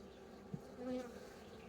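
Honeybees hum steadily inside an open hive during an inspection, a faint continuous drone with a brief louder buzz passing close by.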